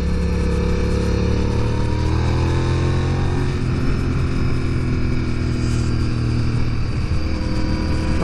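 A motorcycle rides along a rough, bumpy road, its engine holding a steady, loud drone close by for the whole stretch, with no talking.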